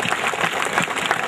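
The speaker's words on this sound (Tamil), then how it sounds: "எல்லோரும் நன்றாக கைத்தட்டி இவர்களை உற்சாகப்படுத்துவோம்" Audience clapping at a warrior parade in Salem city, a dense patter of many hands heard close and steady throughout the short stretch.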